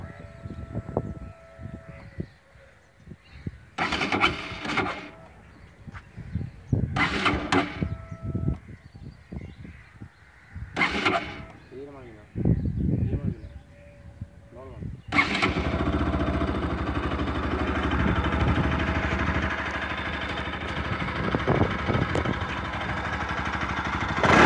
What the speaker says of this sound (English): So just now let's start the bike.